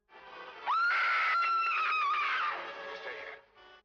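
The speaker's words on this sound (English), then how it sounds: "Gwen and Larry hear the howl and Jenny scream." A woman's long, high scream in the 1941 film The Wolf Man, rising sharply and holding loud for nearly two seconds before wavering down and fading, heard alone and close.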